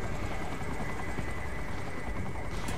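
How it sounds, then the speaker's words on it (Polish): A helicopter in the video game Saints Row 3 gives off a continuous, dense rotor-and-engine roar that holds steady throughout. "Załącz helikopter."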